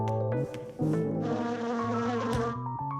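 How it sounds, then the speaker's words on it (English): A cartoon bee buzzes loudly and close, a steady droning whine that wavers in pitch and surges in short bursts, heard alone with no talking. "Here, little bee."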